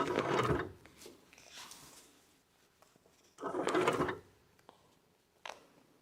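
An embroidery machine working on a wreath design on fabric is stepped one stitch at a time, giving short separate bursts of mechanical whirring and clicking, two of them louder, with quiet gaps between and no speech.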